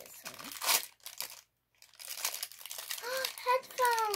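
A gift package is unwrapped with bursts of crinkling and tearing paper, close and fairly quiet, broken by a brief silence, while someone talks over the rustling.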